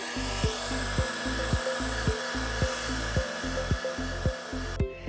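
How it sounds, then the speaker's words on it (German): A hair dryer blows loud and close on a craft box lid to lift off a pencil sketch. Its steady whirring drone carries a regular pulsing beat and cuts out abruptly near the end. "Jetzt muss ich nur noch meine Vorzeichnung entfernen und das tue ich mit einem Föhn."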